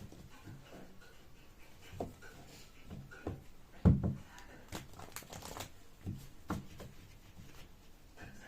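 Tarot cards are handled and shuffled at close range, with soft irregular riffles, taps and papery slides and one louder knock midway.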